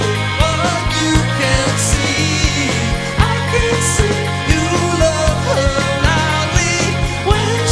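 An electric guitar part for the bridge of a song, a dense layered passage of picked chord notes with a steady rhythmic pulse, loud and continuous throughout.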